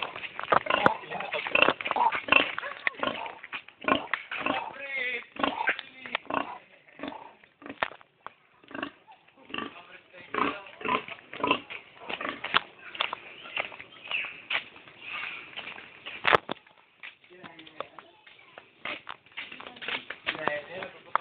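A pig grunts and oinks in a repeated, uneven series of short bursts, fairly close, with people talking over and between the grunts.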